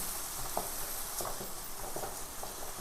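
Spices stirred into frying potato curry in a pan, a steady close sizzle with a few light scraping stirs, no talk.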